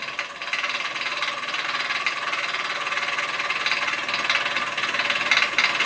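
A small Mamod ME1 marine steam engine runs with a safety valve leak, giving a fast, light mechanical ticking and chuffing over a steady hiss, moderately close and fairly quiet.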